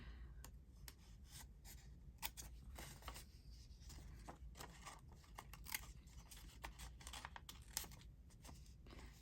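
Scissors cut out paper for a trifold journal folder, making a run of quick, crisp snips and rustles, close and soft, repeating irregularly throughout.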